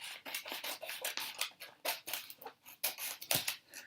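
Scissors cut away a glued paper piece inside a notebook with a quick run of close, crisp snips and rustling paper, irregular and rapid, no talking.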